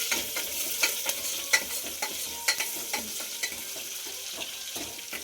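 Garlic sizzles in hot oil in a pan while a utensil stirs it, giving a steady frying hiss broken by regular sharp scraping knocks of the stirring, close up and with no talking.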